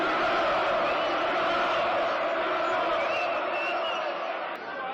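A boxing crowd at Wembley Arena roars in a dense, sustained wall of cheering and shouting, loud and continuous, fading slightly at the end.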